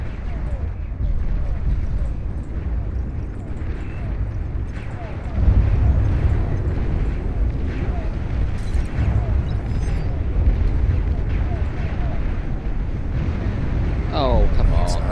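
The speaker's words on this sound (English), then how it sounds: "Nuclear missile launch detected." Nuclear missile launch and blast in a video game, a deep rumbling roar that swells and stays loud throughout, with a heavier boom partway in and a brief voice near the end.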